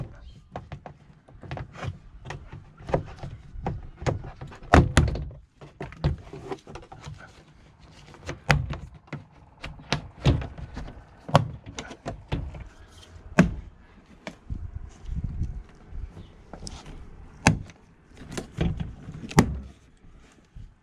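Plastic door panel on a BMW E87 1 Series being pried and pulled away from the car door, giving a series of sharp, loud clicks, thunks and clip pops in irregular bursts close by.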